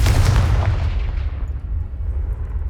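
The Confringo fire spell explodes in Hogwarts Legacy with a loud, close boom whose roar decays over about two seconds.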